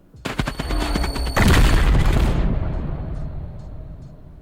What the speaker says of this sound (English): And that's how you do the stun grenade.